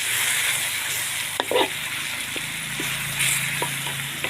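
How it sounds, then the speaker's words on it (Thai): Pad krapow stir-fries over high heat in a pan, a constant sizzle broken by several sharp spatula scrapes and clinks against the metal, close and fairly loud. "เรียบร้อยแล้วเราก็ผัดไฟแรงเลยนะคะ"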